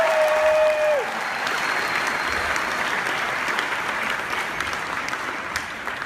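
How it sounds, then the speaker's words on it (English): An audience at a company anniversary event applauds with steady, sustained clapping that fills the room, a brief tone fading at the start, continuing at even strength to the end. "Round of applause for Mrs. Ohshiro."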